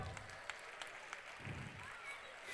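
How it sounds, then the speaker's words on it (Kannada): An audience applauds after a Yakshagana folk theatre performance by women, a faint, steady wash of clapping heard from a distance. "ಅವ್ರಿಗೊಂದು ಜೋರಾದ ಚಪ್ಪಾಳೆ."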